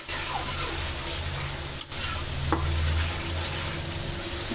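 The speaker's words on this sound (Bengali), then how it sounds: "এখন এটা আমি একটু মরিচ হলুদটা ভালোভাবে কষাইয়া তারপরে মুরগি দিব।" Chili and turmeric spice paste fries in a pan and is stirred, giving a steady close sizzle broken by a couple of sharp scrapes of the spoon against the pan.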